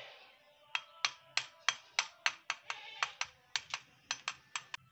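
Oil expeller bars are tapped gently into place with a hammer: a steady series of about fifteen sharp metallic knocks at an even rhythm, close by, over a faint background hum.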